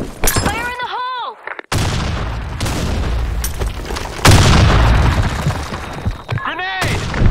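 Grenade blast in a Counter-Strike-style shooter: a sudden loud boom that rolls into a long rumbling roar, with gunfire and chirpy game effects around it and a voice calling out before it.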